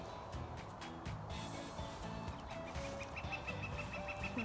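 Chickens and ducks behind a farm fence clucking in repeated short rhythmic bursts, moderately close, with light outdoor background noise and no talk.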